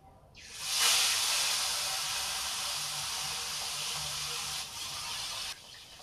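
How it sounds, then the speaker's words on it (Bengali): Fish frying in hot oil with turmeric: a steady, loud broadband sizzle that starts abruptly as the fish goes in and continues evenly, dropping slightly near the end, with no talking. "এবার আমি মাছগুলো ভেজে নেব।"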